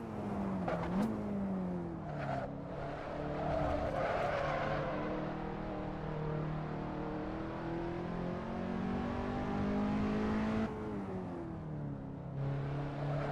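Race car engine in a racing video game mod, steady droning revs that rise and fall through gear changes and corners, continuous and fairly even in level, no voices.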